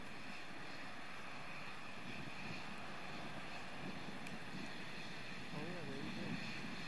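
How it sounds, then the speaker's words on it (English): Space Shuttle Discovery's three main engines power its night launch ascent, a faint, distant, steady roar under a voice talking over it. "Discovery's three engines now powering the second stage."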